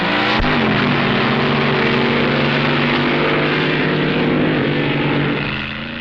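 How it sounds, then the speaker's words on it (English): A 1965 NHRA drag racing car, the Hemi Underglass wheelstander, roars at full power, a loud sustained engine drone with a steady pitch that holds for several seconds before easing slightly at the end. "Some unintentional wheelies and one intentional one with Wild Bill Shrewsbury at the controls of the Hearst's Hemi Underglass"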